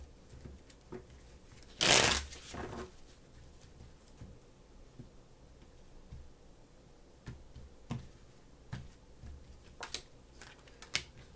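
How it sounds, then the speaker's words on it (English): Tarot cards being shuffled by hand at close range, one loud riffle burst followed by softer scattered card flicks and taps in an otherwise quiet room. "2 more shuffles."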